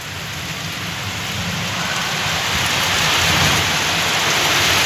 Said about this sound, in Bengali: সেই লেভেলের বৃষ্টি হচ্ছে কিন্তু।